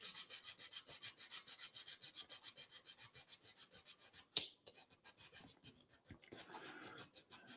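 Rhythmic rasping strokes of sandpaper rubbing a soft wooden puzzle piece, part of a ROKR Gearball Scramble build, steady and close, with one brief sharp knock midway and a slower, quieter scrubbing after.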